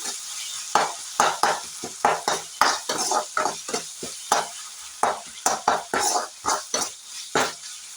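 Tomatoes sautéed in a pan for tomato rice, a spoon scraping and stirring in repeated rhythmic strokes over a soft background sizzle, close and fairly loud, no talk.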